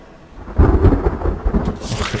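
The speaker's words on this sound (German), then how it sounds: "das fängt schon wieder an zu gewittern." Thunderstorm in the survival video game The Forest: a loud, rumbling roll of thunder with a rainy wash behind it, heard alone.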